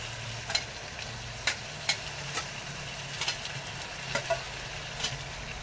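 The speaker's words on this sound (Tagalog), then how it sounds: "Igigisa-gisa ko lang muna konti." Chicken sautéing in a pan for tinola, a soft steady sizzle with a few sharp utensil clinks and scrapes spaced through, low kitchen hum underneath, no talking.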